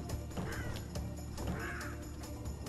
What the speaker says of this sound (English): Three birds.